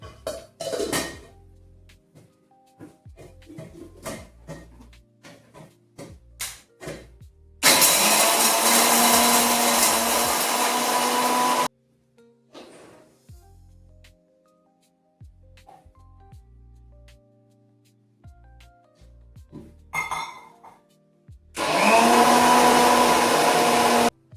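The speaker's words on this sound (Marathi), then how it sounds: "मी आता मिक्सरमधून फिरून घ्यायचे" A mixer grinder whirs loudly in two bursts, grinding peanut chutney with a little sugar into a fine paste, the first about four seconds long and the second shorter, with clatters and quiet handling noises between them.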